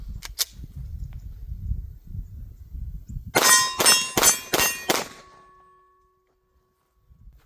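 An MR920 pistol fires five quick shots at steel targets on a range, each crack followed by a ringing metallic clang that fades into silence.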